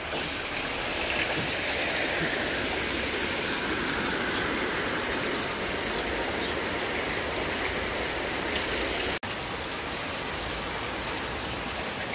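Water pours steadily at a natural spring used for bathing in the countryside, a dense, continuous rushing wash that stays close and loud throughout, with only a brief dip near the end.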